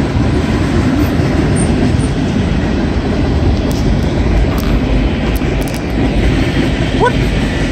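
CSX southbound freight train passing close by, a loud continuous rumble of rolling wagons with rail clatter throughout and a faint squeal near the end.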